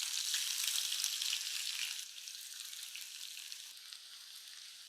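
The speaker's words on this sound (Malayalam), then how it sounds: "അപ്പൊ അതാ എണ്ണയൊക്കെ നല്ലപോലെ ചൂടായി സവോള വറുത്ത് എടുക്കാവേ" Thinly sliced onions fry in hot oil, giving a steady close sizzle that is loudest at first and eases a little after two seconds, with no talk.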